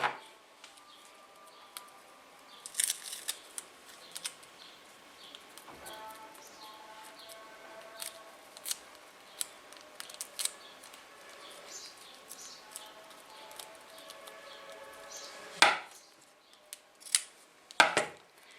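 Scissors cut through fabric for an embroidered kimono poncho in a series of crisp, close snips scattered irregularly over a quiet background, with a few louder cuts near the end.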